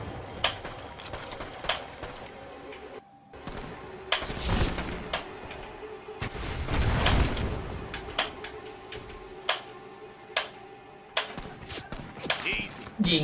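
Sharp sniper rifle shots crack out in Brothers in Arms 3, scattered single reports spread across the stretch amid battlefield noise, with someone talking excitedly throughout.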